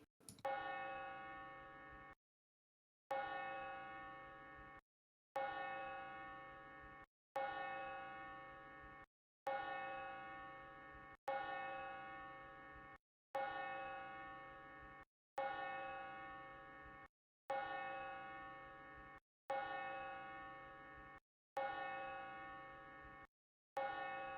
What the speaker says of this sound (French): sans autre tadadin, je fais sonner les 12 coups